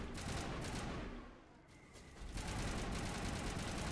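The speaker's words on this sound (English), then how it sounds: "Oh, wait, they're shooting!" Dense automatic gunfire from a firefight in the sci-fi game Mass Effect Legendary Edition, a steady loud roar of rapid shots that dips briefly before surging back.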